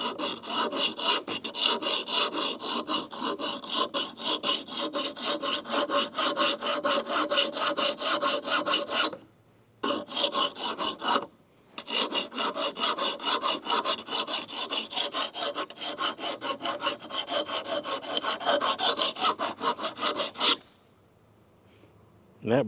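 A hand file rasps along the rough edge of a homemade steel axe blade made from cheap metal, giving fast, loud, rhythmic scraping strokes up close, with two brief pauses and a quiet stretch at the end.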